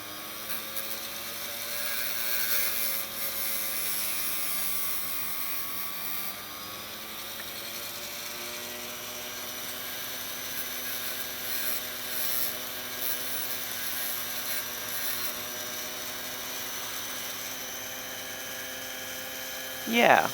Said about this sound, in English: I think I want to try to hit it with the grinder for a second.